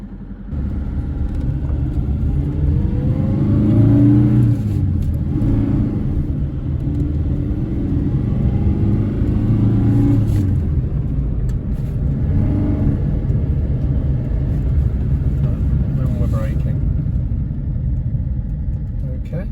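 A Series 3 Fiat 127 classic car drives along with a steady engine rumble and road noise that holds throughout, while people talk inside the cabin.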